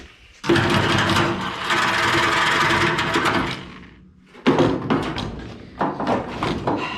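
Air chisel cutting rusty sill metal on a Holden HQ car, a loud, close rapid hammering burst lasting several seconds, a pause, then shorter choppy bursts.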